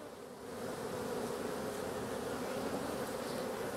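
A steady, dense drone of bees buzzing around an overwintering beehive, heard up close and continuous with no voices.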